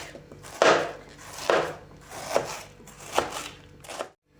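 A knife chops through crisp cabbage on a board, about five slow strokes, each a crunchy thud, close by with no talking.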